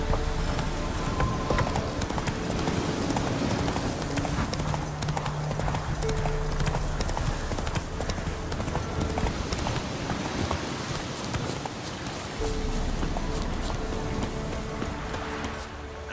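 Hooves of Roach, a horse in The Witcher 3, clip-clop in a fast, continuous galloping rhythm over a dense game soundscape, with a brief neigh and faint ambient sound beneath.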